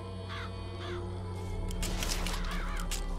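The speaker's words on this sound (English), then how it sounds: "Press right mouse to summon murderous crows to stun and damage your enemies" Summoned murderous crows swarm in BioShock Infinite, a flurry of harsh, repeated caws rising into a dense, loud flapping and cawing burst over a steady game hum.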